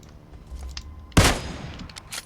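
A sudden loud gunshot burst goes off in the PUBG video game partway through, preceded by faint low rumbling and followed by a short decaying tail and softer background clatter.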